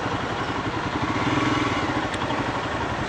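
A Royal Enfield Himalayan adventure tourer motorcycle rumbles steadily at close range, its engine a loud, even, throbbing drone with no voices.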